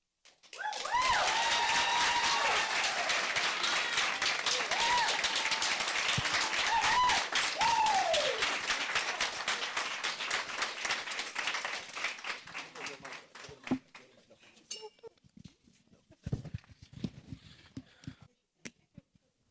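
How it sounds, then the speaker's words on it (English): Audience applause for student scholars at a school district event, a dense wash of clapping that carries on for about twelve seconds under a singer's voice, then thins into scattered claps and taps. "Let's give our scholars another round of applause."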